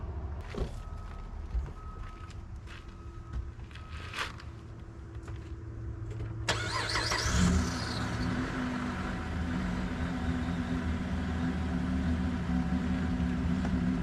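A car engine cranks and catches about halfway through, in Canada, then settles into a steady running rumble. Before that come scattered clicks and quiet background noise, and no one speaks.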